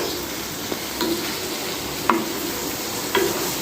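Long-sliced capsicum frying on a tawa for pulao, a steady close sizzle broken by a few sharp spatula knocks and stirring scrapes, with no voices.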